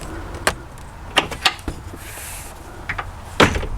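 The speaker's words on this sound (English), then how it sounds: "I'm going to close the door," The main entry door of a Newmar New Aire RV is pulled shut, giving several sharp knocks and latch clicks, a brief sliding scrape and a final solid thud, heard up close indoors.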